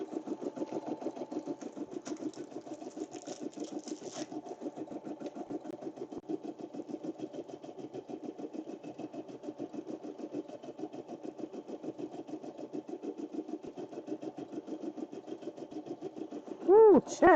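An embroidery machine stitching a puff embroidery project, a fast regular needle-punching rhythm that stays even and close throughout, with a sharp louder burst at the very end.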